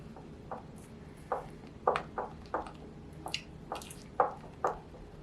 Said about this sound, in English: Now I'm going to use a spatula to mix this together.